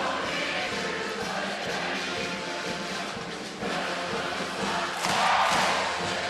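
Dense crowd noise fills a basketball arena packed with close to 10,000 fans at an NCAA men's game, Saint Mary's at Utah State, a steady broad roar with scattered thuds and a swell of cheering near the end.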